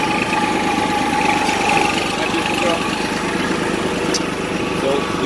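A tractor engine idles steadily with a low rhythmic chugging rumble close by, constant throughout.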